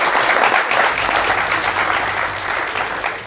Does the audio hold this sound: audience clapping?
yes